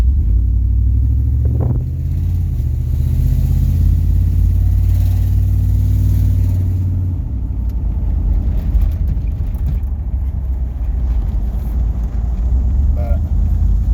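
A GMC Suburban with its engine running, giving a loud, close, steady low rumble that rises slightly with a rev early on and then settles back to an even idle.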